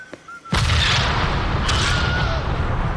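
A C4 explosion in the Deadpool video game erupts suddenly with a loud, deep blast, then a long rumbling roar and a second burst of debris. No one speaks.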